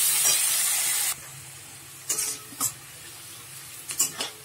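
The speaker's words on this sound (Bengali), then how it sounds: "এবারে পেঁয়াজটা ভালো করে ভেজে নেবো।" Sliced onions fry in hot oil with a bay leaf for a prawn and green jackfruit dish: a strong sizzle fades after a second, then several short scraping stirs follow, close by and without talk.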